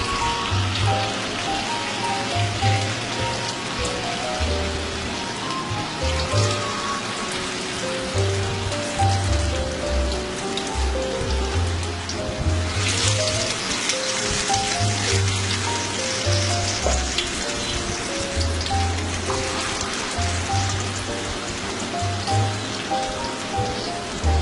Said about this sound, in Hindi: इसलिए मैं इसे कम ऑयल में ही फ्राई करूंगी